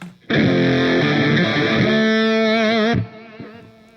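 An electric guitar with low-output vintage-style Jim Wagner Dark Burst humbuckers, played through a Gecko Pedals O Face modulated overdrive, rings out one sustained, thick, driven chord that wavers with modulation and then cuts off.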